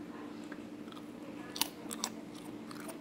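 Crispy homemade fried green banana chips crunch between the teeth in a few sharp, close bites over quiet chewing, fairly soft overall and with no one talking.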